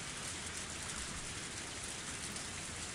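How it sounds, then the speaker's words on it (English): Heavy rain pours steadily and densely in a Higurashi visual novel game scene, a continuous close hiss of drops on surfaces with no other sounds. "Even the sound of the engine faded into the sound of the heavy rain and was inaudible now."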